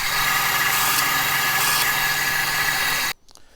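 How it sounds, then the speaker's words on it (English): A loud, steady whine of a bandsaw cutting a wooden pen blank runs continuously, then cuts off abruptly near the end, leaving quiet. "let's head off to the bandsaw and give that a quick cut."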